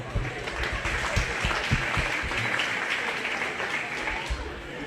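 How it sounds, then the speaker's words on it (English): A crowd at a 4-H/FFA goat show claps in steady applause for several seconds, with some voices mixed in beneath the clapping. "Can we give you a round of applause?"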